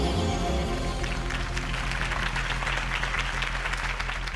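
A crowd applauding a campaign speech in the Telltale Batman video game, a dense burst of clapping at steady volume for several seconds, no voices over it.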